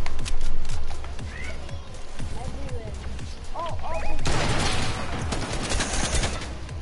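Rapid bursts of gunfire crackle through a Fortnite match, scattered shots giving way to a denser, louder volley near the end, mixed with game sounds.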